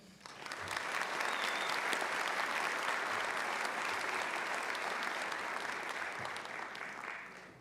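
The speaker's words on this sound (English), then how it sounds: "Please give a loud round of applause to this year's runner-up" Sustained audience applause at an Ivy Day awards ceremony as the runner-up is announced, swelling quickly to a steady, dense roar of clapping from many hands and fading slightly at the end.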